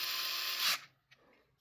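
Fanttik electric screwdriver loosening and tightening screws: a short, steady high-pitched motor whir that cuts off after under a second, followed by a faint click.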